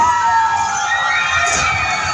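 A crowd of children at a BMX ramp show in Rio Linda cheers and screams continuously, a loud, dense roar of high shouting voices filling the space.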